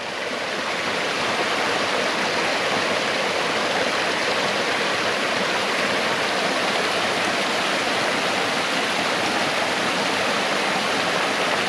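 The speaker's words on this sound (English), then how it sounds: "Okay, we're at another water crossing here." A wilderness trail stream crossing in the Cranberry Wilderness, with flowing water rushing steadily and loudly at close range, a constant broadband wash with no talk.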